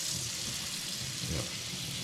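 Low-pressure water streams steadily through a K&N air filter during rinsing, a continuous soft hiss at moderate level with no talking.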